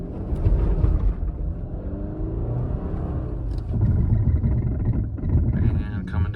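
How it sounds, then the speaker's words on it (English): A car on Michelin X-Ice snow tires accelerates at full throttle on snow, its engine a loud, steady, close rumble throughout with some wind buffeting, while a person talks over it. "we'll do a full throttle acceleration and see how fast we get up to 20 miles an hour"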